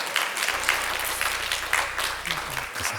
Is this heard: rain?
no